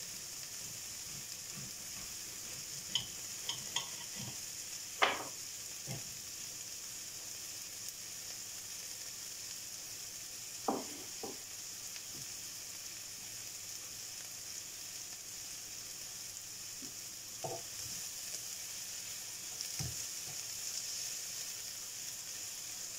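Onions frying in a pan give a soft, steady sizzle, faint and even, with a few scattered light clicks and taps over about twenty seconds, no talking.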